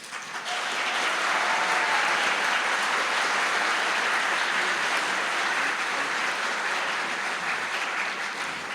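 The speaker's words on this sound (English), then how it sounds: "please give a round of applause and welcome to the College of Fine Arts 2016 Fall Graduation Convocation" A full audience applauds at the College of Fine Arts 2016 fall graduation convocation, with dense, steady clapping that rises quickly and holds evenly for several seconds.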